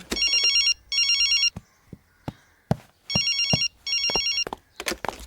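Telephone ringing in a Tamil film scene, loud bursts of a bright electronic trill in repeated pairs, separated by short gaps that carry thumps and brief noises.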